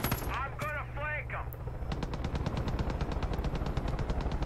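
Rapid automatic gunfire in the shooter game Far Cry 5 starts with a few sharp shots and metallic game effects, then settles into a steady, loud stream of evenly spaced bursts that fills the rest of the moment.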